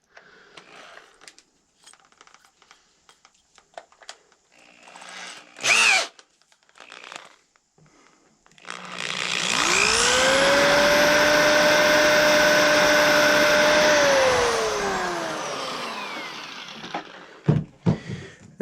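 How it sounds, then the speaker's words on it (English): Power drill with its bit tight in the chuck, drilling a shallow hole while making a powder horn staple: a loud steady whine that spins up, holds for about five seconds and winds down, with a few handling taps before and after. "And make sure your drill bit's tight in the chuck."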